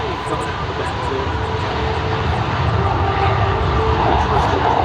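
A MiG-17 jet with afterburner at the 2026 Dayton airshow, its engine a loud continuous broad roar that builds steadily, with a voice talking over it.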